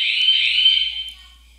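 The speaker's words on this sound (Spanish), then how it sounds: "Va a hacer un sonido de decir, se activó la alarma. Va a ser muy escandaloso." A cheap home security alarm goes off indoors, a loud piercing high electronic tone that sounds continuously for about a second before cutting off and leaving quiet room tone.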